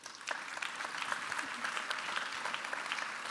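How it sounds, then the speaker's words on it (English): Steady audience applause for panelists at a systems-change panel discussion, a dense, even patter of many hands clapping, fairly distant and sustained for the whole stretch. "Please give a round of applause to our wonderful panelists."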